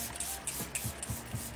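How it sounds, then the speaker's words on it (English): A Kosas facial spray mists onto a face as several quick, soft hissing puffs in a row, close and fairly quiet, with no talking. "so can I use my Kosas spray?"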